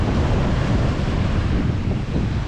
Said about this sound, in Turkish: Cebeci sahili Kerpe ile Karasu arasında bir sahil.